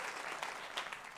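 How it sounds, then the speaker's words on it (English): Faint applause from an audience at a political talk, a brief steady patter of clapping heard at a distance without speech. "give them a round of applause"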